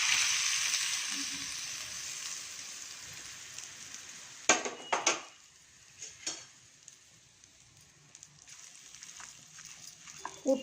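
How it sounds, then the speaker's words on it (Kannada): Tempering spices sizzle in oil for a cucumber dish, a soft steady hiss with a few sharp clinks and scrapes of utensils against the pan partway through. "ಇದಕ್ಕೆ ಒಗ್ಗರಣೆ ಹಾಕೋಣ"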